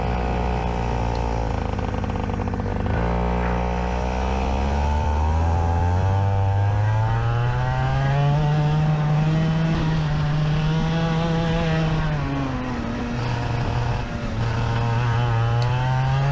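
A car engine runs at full throttle on a race track, revving up and down through gear changes and braking into a corner. The loud, continuous engine note plays with no talking.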